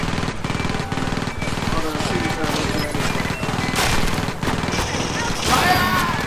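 Gunfire in the Aliens vs Predator video game, with a dense, steady rattle of automatic weapon bursts and scattered impacts running throughout, partly under excited talking voices.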